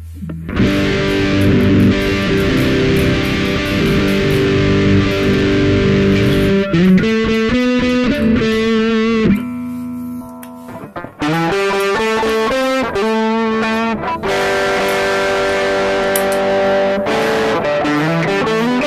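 Electric guitar through the distortion of a Mosky DTC 4-in-1 pedal plays chords and choppy riffs for nearly twenty seconds, loud and saturated, with one brief dip in the middle.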